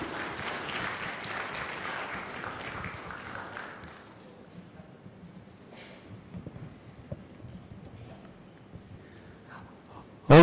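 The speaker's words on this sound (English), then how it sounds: "I request all of you to clap hands in appreciation of the speaker's presentations" Workshop audience clapping for the speakers at an international workshop session, a dense crowd applause that is strongest at first, then thins to scattered faint claps and room noise before a sudden loud knock at the very end.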